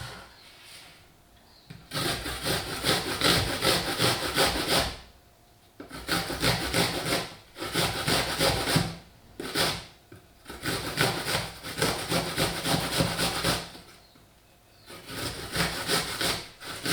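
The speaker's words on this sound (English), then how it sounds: "we're going to grate the apple" An apple is grated by hand in repeated rasping bursts of a few seconds each, with short pauses between strokes, close and fairly quiet.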